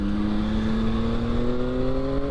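A 2022 Yamaha XSR900 motorcycle rolls downhill, its engine holding a steady, loud drone whose pitch creeps slightly upward, with wind rush close around it.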